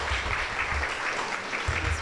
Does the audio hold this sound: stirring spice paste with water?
no